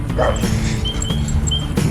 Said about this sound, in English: You hear another doggy? Little doggy.